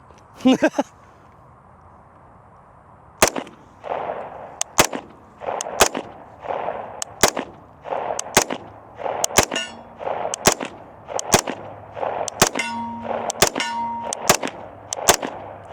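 Stribog SP45A3 submachine gun fired from the hip in a video game: a dozen or so sharp single and paired shots at an uneven, quick rhythm, close and loud, after a brief metallic clatter at the start.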